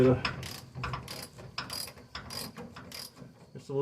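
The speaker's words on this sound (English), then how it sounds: "I'm going to take these 2 bolts under here that we just put in. I'm going to loosen them up" Ratchet clicking in quick bursts while loosening two bolts on a homemade transmission cross member under a 1949 Studebaker gasser project car, close and fairly quiet, with short pauses between strokes.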